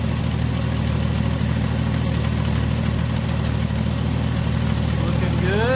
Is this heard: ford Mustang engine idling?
yes